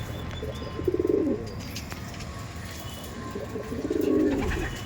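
Tournament-quality Madrasi pigeons give two low, rolling coos a few seconds apart, fairly close, over a constant background hum with no talking.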